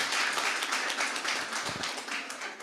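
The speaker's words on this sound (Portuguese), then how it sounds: "Uma salva de palmas pela coragem" A lecture audience gives a round of applause, dense overlapping clapping from many hands that stays fairly loud and steady throughout, slowly thinning a little toward the end with no voice on top.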